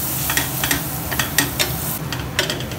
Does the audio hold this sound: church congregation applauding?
no